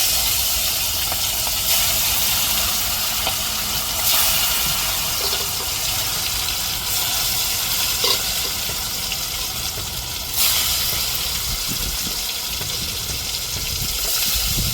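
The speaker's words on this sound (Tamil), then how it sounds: "கருவேப்பிலையும் போட்டு மீனில் விரவி வச்ச மீனில் அப்படியே பொரிச்சு எடுத்துருவோம் எண்ணெயில்" Fish coated with curry leaves deep-frying in oil, a constant close bubbling sizzle with faint hiss that runs evenly, broken by a few small pops and clatters; no voices.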